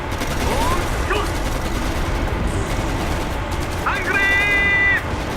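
Tank cannon fire and battlefield gunfire in the strategy game Codename Panzer Phase One crackle in a dense, continuous rattle of shots, with a louder blast near the end.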